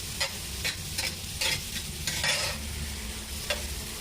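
Dry chole masala with turmeric being sautéed and stirred in a pan, a steady close sizzle broken by repeated scraping strokes of the spoon at an uneven rhythm.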